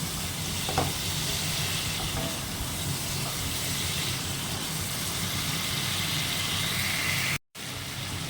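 Masala sautéing in oil for a thin fish curry with taro, a dense steady sizzle with occasional stirring clicks, briefly cutting out near the end; no one speaks.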